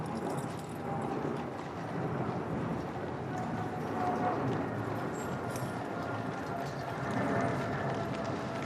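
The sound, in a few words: horse-drawn 1902 State Landau carriage hooves clip-clopping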